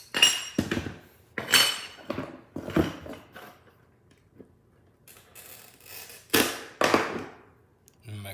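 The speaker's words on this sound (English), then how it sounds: "I'm gonna break it off like this. Use my running pliers." Stained glass being snapped apart along scored lines with running pliers during a rooster lamp repair: a few sharp, close glassy cracks and clinks spaced across the stretch, with quiet handling sounds between them.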